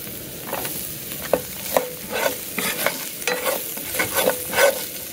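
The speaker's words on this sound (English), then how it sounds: "Now let's fry some onion." Onions sizzle and crackle in a hot pan, with occasional stirring scrapes over a steady frying hiss; no talking.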